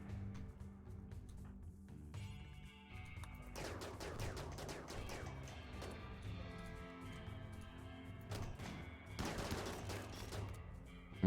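Gunfire in a RimWorld raid, with dense bursts of rapid shots clustered in several volleys, strongest in the middle and again near the end, over a steady game backdrop.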